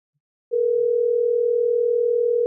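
An automated AI auto-dialer places a phone call, and after a brief silence a single steady dial tone starts and holds, loud and unbroken, until the end.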